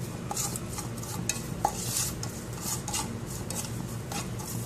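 Sautéed onions with a pinch each of turmeric, pepper and garam masala being stirred in a pan, spoon scraping and tapping against the metal over a faint sizzle, close and continuous with no talking.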